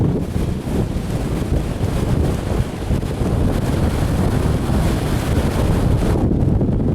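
Loud, steady wind on Fuerteventura near Mount Tindaya and Vallebrón Valley blasts against the microphone for several seconds, a deep blustery rumble that drops off sharply at the very end.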